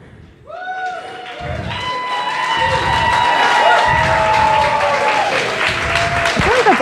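A crowd applauds and cheers at a live show, with clapping building to a steady roar and loud whoops and shouts rising over it, voices mixed into the din throughout.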